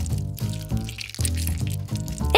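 A lemon squeezed into a sour juice fountain: gurgling, pouring liquid with bubbly bursts recurring in a loose rhythm, fairly loud and close, with no voices.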